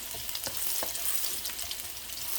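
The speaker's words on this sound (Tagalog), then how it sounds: "Magigisa para sa bigas." Rice sautés in a pan for Hainanese chicken rice, giving a continuous loud sizzle with a few light scrapes of stirring.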